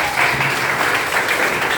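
Classmates clap for a student group stepping forward to present in a classroom; brief, even applause from a nearby small group, continuous and fairly loud throughout.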